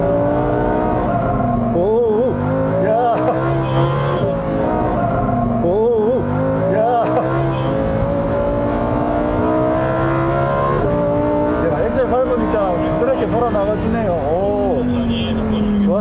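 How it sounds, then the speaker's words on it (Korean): A Lamborghini Urus in sport mode accelerates at full throttle, its engine note climbing and shifting through repeated revs, loud and close inside the car with voices talking over it. "우르스 정도는 엑셀 끝까지 밟아버리면 바로 추월할 수 있는 상황이네요."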